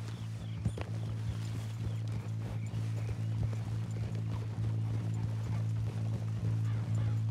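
Horse hooves clip-clopping at a steady riding pace in the video game Red Dead Redemption 2, soft and continuous over a low droning background hum.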